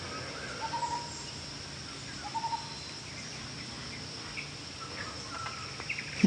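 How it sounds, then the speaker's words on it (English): Tropical jungle ambience in Bali, a steady insect chorus with short bird calls rising above it at moments, heard from a distance at a low, even level, with no talking. "I want you to hear the beautiful sounds of the jungle here in Bali."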